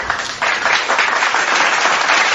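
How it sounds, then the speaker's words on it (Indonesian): Applause from an audience at a Christian talk, a dense, loud burst of clapping that swells quickly and carries on steadily with no voices over it. "Oke, saya tepuk tangan untuk itu dulu."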